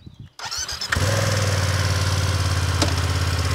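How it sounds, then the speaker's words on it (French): A BMW F900 motorcycle engine starts and settles into a loud, close, steady idle, with a single sharp mechanical clack partway through as the shifter drops into first gear. "Donc vous entendez quand même le clac hein, du shifter."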